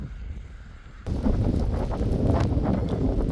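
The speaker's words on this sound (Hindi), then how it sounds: "बहुत तेज़ यहाँ पे हवा चल रही है और बारिश भी हो रही है साथ में।" Loud gusting wind buffets the microphone suddenly in Hamburg, a dense rumbling rush with patters of rain, continuing steadily.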